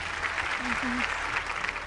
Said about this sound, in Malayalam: വിശ്വതിക്ക് പെരിയ കൈയടി കൊടുക്കണം.